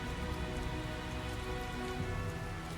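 Steady rain pours down in the Tales of Zestiria video game, a dense, even hiss of drops hitting surfaces that carries on without a break and with no voices over it.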